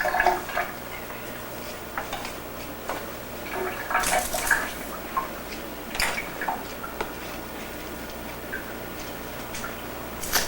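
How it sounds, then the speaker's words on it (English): Green onion rinsed under a running kitchen tap, a soft steady water flow with faint splashes and clicks, fairly quiet and close, no talking. "I have to rinse this off."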